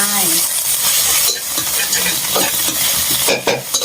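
Pork stir-fried in a hot pan until dry for a southern Thai khua kling dish, with a loud continuous sizzle and scraping stirring strokes throughout, no talk.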